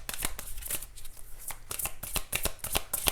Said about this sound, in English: I feel like grabbing one more card here. Let's grab one more.